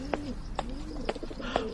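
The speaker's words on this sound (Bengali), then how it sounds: "মাথার উপর কড়িবর্গা থেকে পায়রার ডাক শোনা যাচ্ছে" Pigeons coo from the wooden rafters of an old house's veranda, four soft rolling coos about half a second apart, close and clear over quiet room tone.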